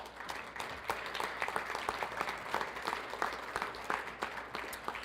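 An audience claps at a Special Olympics awards ceremony, with dense, steady applause from many hands sustained throughout.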